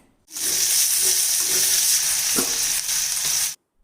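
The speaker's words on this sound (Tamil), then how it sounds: "வெங்காயம் தக்காளி ஒன்றாவே சேர்த்திடுறேன்" Onions and tomatoes frying together in a pan, a steady close sizzle with small crackles and a brief stirring clatter near the middle, running alone without talk.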